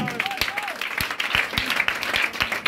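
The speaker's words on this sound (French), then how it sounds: "Est-ce que tu peux acclamer le Seigneur?" A church congregation applauding to acclaim the Lord, a dense crowd clapping with a few sharper individual claps standing out, steady and fairly close, with brief voices mixed in.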